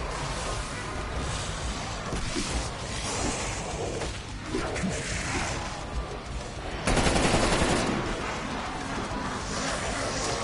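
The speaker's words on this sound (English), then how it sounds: "This rifle could deliver the required damage." A Krig 6 assault rifle fires in Call of Duty: Cold War, loud and dense, with bursts and sustained automatic fire rattling over busy battlefield noise, growing heavier for a moment about two-thirds of the way through.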